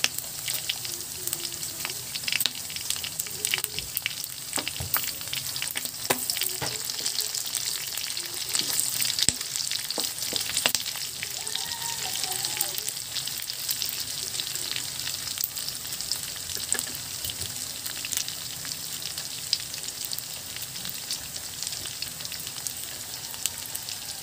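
Chopped onions sizzle and crackle steadily in a hot pan for a Filipino binagoongan dish, with occasional stirring scrapes over a continuous, moderately loud frying hiss and no voices.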